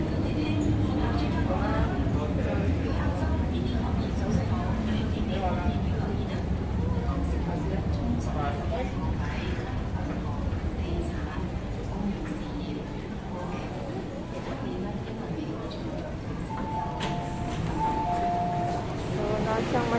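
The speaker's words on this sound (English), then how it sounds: "So the train is coming," A train arriving at a station rumbles loudly and steadily close by, with a squealing tone near the end, while people talk over the constant noise.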